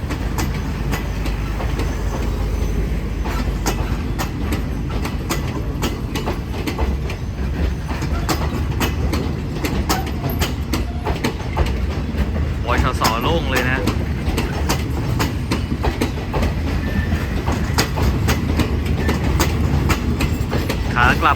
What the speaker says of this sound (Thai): เนี่ยพวงรถนอนแดวู มาตอนหน้าด้วยนะครับ สมศักดิ์ศรีรถด่วนพิเศษสักทีนะครับ ขบวน 38 ครับ